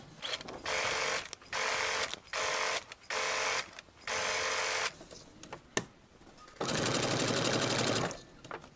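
Sewing machine stitching a tote bag made from coffee packets, running in five short bursts followed by a longer burst after a brief pause with small mechanical clicks, close and loud with no talking.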